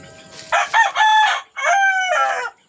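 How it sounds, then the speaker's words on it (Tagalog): A Flores White brood stag rooster crows once, a close, loud two-part call with a rising start and a long held tail, with no talk over it. "Ito po naman po ang brood stag natin ng Flores White."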